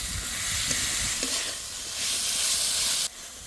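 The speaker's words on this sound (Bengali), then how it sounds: "এই সময় দিয়ে দেবো কুচি করা মাংস। এইগুলো কিন্তু গোল্ডের চিকেন। আর দিয়ে দেব কুচি করা গাজর। এবার ভালো করে কষে নেব।" Minced chicken and chopped carrot sautéing in oil, a steady broadband sizzle with a few scraping stirs near the start, then a brief drop in level at the end.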